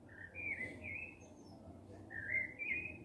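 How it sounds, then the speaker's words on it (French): Several high, clear bird calls ring out in two bursts over a steady low rumble of background noise. "J'aime entendre le cri des oiseaux se balader autour des antennes UFO."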